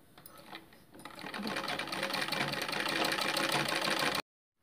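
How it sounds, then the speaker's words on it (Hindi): A sewing machine stitches along the edges of a blouse back neck, a fast, even mechanical whirring that builds after a quiet start, runs steadily for a few seconds and then stops abruptly. "देखिए इसके किनारे किनारे हमने सिलाई कर लिया है"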